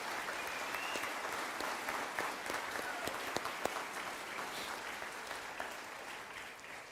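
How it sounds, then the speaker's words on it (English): An audience at a high school graduation applauds steadily for several seconds, a dense wash of clapping with a few sharper claps standing out. "Please show them how much they are appreciated with a round of applause"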